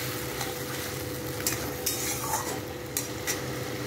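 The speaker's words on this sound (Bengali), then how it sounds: "আগে ব্লেন্ড করা মশলাটা কষিয়ে নিচ্ছি।" Blended spice paste sautéing in a pan for a taro (kochu) curry, giving a steady low sizzle with occasional scraping stirs of a spoon against the pan, close and continuous.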